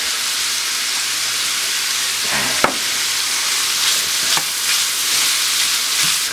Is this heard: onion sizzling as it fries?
yes